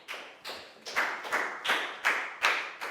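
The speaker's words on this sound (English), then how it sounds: "Big round of applause for Chu," A class of students claps together in a slow, regular rhythm, about seven distinct unison claps spaced roughly evenly, close and moderately loud in a quiet room.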